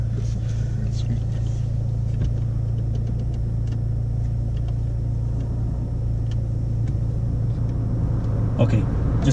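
A car engine idles steadily during a practical driving test, a continuous low rumble close by and loud throughout, with a brief bump near the end.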